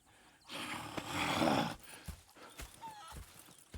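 Horses in Red Dead Redemption 2 give a breathy snort, then sparse hoof clops and shuffling follow, close and fairly quiet, with no talk.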